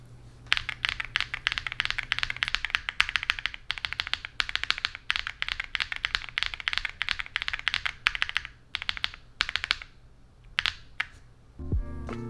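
Rapid, dense keystrokes on a KiiBOOM Phantom 81 keyboard fitted with linear switches, crisp and clacky, typed continuously at close range with brief pauses toward the end and a short thump at the finish.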